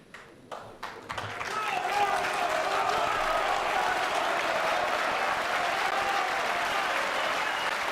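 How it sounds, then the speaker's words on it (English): Crucible snooker crowd breaks into loud, sustained applause with cheering, swelling after a couple of seconds and holding steady throughout, with commentary voices faintly underneath. "You can hear the roar from the Crucible crowd as Shaun Murphy comes back to his seat"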